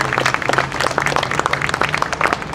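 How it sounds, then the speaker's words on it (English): Audience applause at a 2013 veterans honoring event in El Sereno: a steady, dense round of clapping from a crowd that holds evenly for a couple of seconds. "I'd like to give her a big round of applause."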